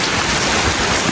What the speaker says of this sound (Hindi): इतनी जोर की बारिश हो रही है यहाँ पे।